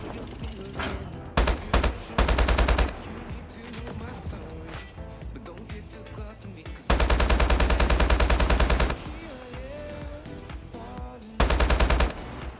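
HBR-A3 assault rifle fire in the video game Call of Duty Mobile comes in several loud rapid automatic bursts, with quieter game sounds and mechanisms in between.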